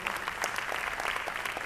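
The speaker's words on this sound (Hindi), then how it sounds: "इनके लिए जोरदार ताली होनी चाहिए" Brief burst of enthusiastic clapping from an audience at an IMC RAS program in Kolkata, a steady patter of many hands for a couple of seconds with no talking over it.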